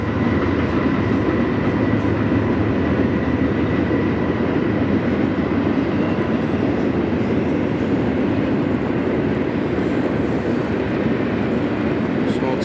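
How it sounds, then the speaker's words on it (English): A westbound intermodal freight train rolls past the Barstow passenger station, a steady loud continuous rumble with wheel and rail noise holding throughout at close range. "a westbound intermodal heads for a crew change at the yard, passing the collection of vintage equipment on display at the Barstow passenger station."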